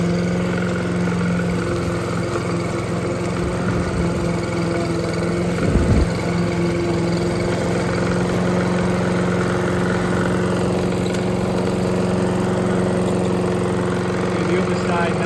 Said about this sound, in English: Need a better lawnmower really.